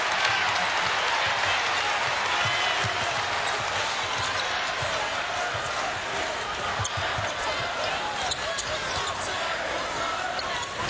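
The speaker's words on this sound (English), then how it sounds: "Crowd rising to its feet now at McHale Center." Basketball arena crowd at McHale Center during a UCLA versus Arizona game, a sustained dense roar of cheering and applause with squeaks and bounces beneath and a commentator talking over it.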